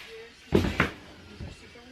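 A metal wood stove door swings open with a couple of sharp clunks and creaks close by, followed by a softer knock, with a person talking in the room.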